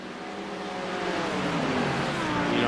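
A Porsche GT4 engine roars steadily in a Nürburgring 24-hour racing video game, its layered harmonic drone swelling slightly louder as it holds a high rev.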